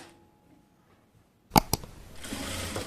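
A sewing machine stitches a designer sleeve: after near silence, a couple of sharp clicks start a fast, steady mechanical whirring run close by.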